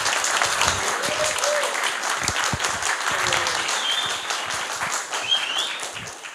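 Sustained applause from a conference audience welcoming a speaker at the DORS/CLUC 2023 event, steady and dense throughout with scattered individual claps standing out.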